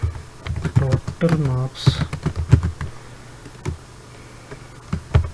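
Rapid clicking of computer keyboard keys while C code is typed, a brisk irregular run of close taps interleaved with someone speaking.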